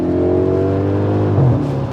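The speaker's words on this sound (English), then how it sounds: "listen to that engine" Either an Audi S5 or a Lexus ISF V8 revs on a road, a steady loud engine drone rising in pitch as it pulls, with no one talking.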